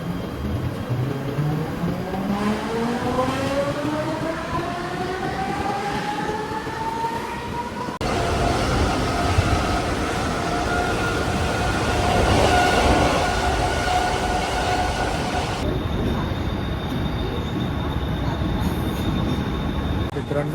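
A near-empty Mumbai suburban local train running late at night: a constant loud rumble of wheels on rails with long rising and falling metallic wheel squeals, heard from inside the carriage with no talking.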